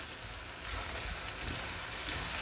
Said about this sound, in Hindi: तो अभी ये साबुत गरम मसाला जो है 1 टीस्पून डाल दें।